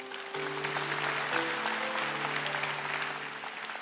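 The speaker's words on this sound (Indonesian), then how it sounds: "Kasih tepuk tangan untuk Tuhan Yesus." A church congregation applauds during a Sunday service sermon, a steady wash of many hands clapping over a sustained organ or keyboard tone that continues for several seconds.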